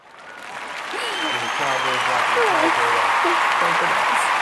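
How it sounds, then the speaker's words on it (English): Studio audience applause at a life-coaching podcast taping, a steady wash of clapping that swells and holds, with voices talking over it. "Give her a round of applause."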